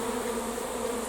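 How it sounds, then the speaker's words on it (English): A honey bee swarm on an allotment hums in a dense, continuous drone, loud and close for about a second with no speech. "This is quite interesting because we've got a swarm here"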